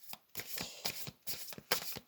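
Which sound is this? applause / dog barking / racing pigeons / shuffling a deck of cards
shuffling a deck of cards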